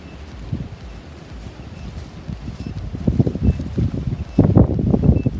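Wind gusts buffet the microphone in rough, uneven bursts that grow louder and more turbulent toward the end.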